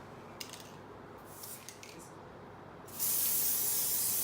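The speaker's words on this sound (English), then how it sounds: "So I do not want to spray it in your eye." A quiet scene with a few soft rustles, then a sudden steady aerosol spray hisses loudly and continuously to the end.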